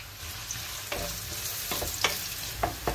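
Onions sizzling in hot oil in a pan for a home-cooked chicken curry, with a steady frying hiss and several distinct scraping stirs of a spoon at irregular intervals, close and fairly loud, no voices.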